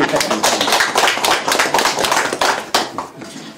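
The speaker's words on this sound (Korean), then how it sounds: "박수 한번 부탁드리겠습니다" An audience at a Honam Future Forum lecture gathering claps for a Mokpo High School alumni association president, a dense, fairly loud round of applause filling the room throughout.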